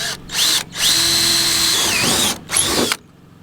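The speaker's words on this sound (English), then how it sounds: "She's got the drill in hand." A cordless power drill whirs in several bursts while mounting solar panels on a step van roof, rising and falling in pitch as it drives fasteners, close and loud, with short pauses between runs.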